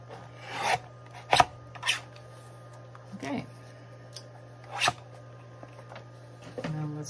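Scissors cut through junk mail paper in a few separate rasping snips spaced a second or so apart, close and quiet over a steady low hum.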